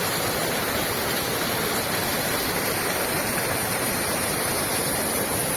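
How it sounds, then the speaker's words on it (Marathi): Stream of water flowing from a spring toward a brook in a Ladakh village, a loud, steady rushing wash close by with no talk. "वाहणारा झरा हे असं पाणी हा प्रत्यक्ष त्या ओढ्याकडे हा जातो"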